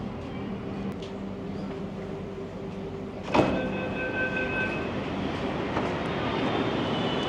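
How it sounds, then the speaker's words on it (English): Steady rumble of a metro train in motion, heard from inside the carriage, with a faint whine, a sharp clunk partway through and a slowly rising roar. "We have entered the metro."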